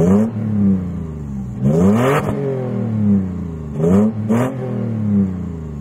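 A Toyota 4Runner SUV fitted with an aftermarket Magnaflow catback exhaust revs in several short blips, its deep exhaust tone rising and falling over a steady idle.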